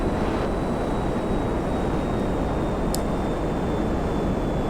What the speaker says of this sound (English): Look at the way this plane is shaking.